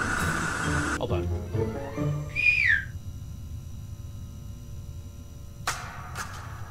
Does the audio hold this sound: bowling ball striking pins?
no